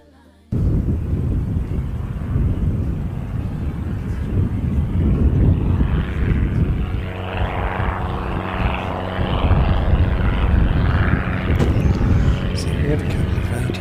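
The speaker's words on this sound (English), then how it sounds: "Airbus engines hum through the air, a symphony soaring without a care." Loud sustained roar of airliner jet engines at an airport, a broad rumbling wash that swells after a sudden start and holds steady throughout, with no voices.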